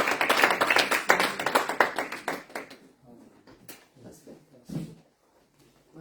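A church congregation at an evening seminar claps together in brisk, loud rhythmic applause that fades after a few seconds, leaving scattered single claps and light room noise.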